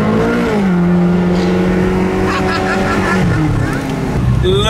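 Supercars, including a Liberty Walk build, drive in traffic after leaving a petrol station, engines droning and revving nearby with a rising and falling pitch as cars pass, under a steady road roar.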